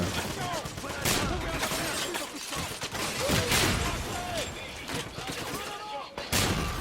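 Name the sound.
gunfire shooting at a barrel in the video game Wolfenstein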